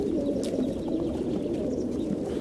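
Racing pigeons coo in a low, steady, continuous murmur, close and fairly loud, with a faint higher chirp near the start and no voices.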